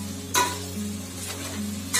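Masala frying in oil as it is stirred, with a soft continuous sizzle and two brief bursts of scraping from the spoon, close and fairly quiet.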